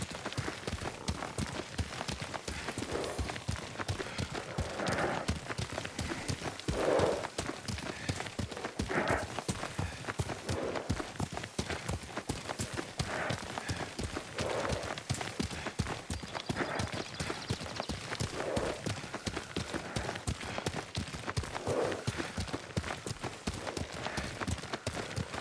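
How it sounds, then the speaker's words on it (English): Horse hooves galloping in Ghost of Tsushima, a rapid steady clip-clop that runs throughout at moderate volume with faint voices now and then. "Lord Sakai taught me to ride a horse."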